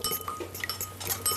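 A spoon clinks and scrapes against a bowl while garlic, mustard, honey, rice vinegar, sesame oil and olive oil are whisked into a slaw dressing, giving quick light taps in an uneven rhythm.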